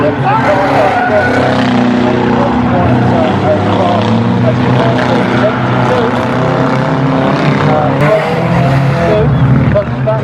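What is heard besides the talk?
banger racing cars on raceway track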